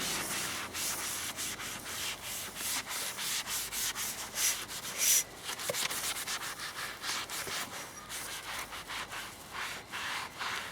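Someone scrubs a lamp-post ahead of spray painting it, a rapid, rhythmic rubbing and scratching that runs steadily and close throughout, with brief louder strokes along the way.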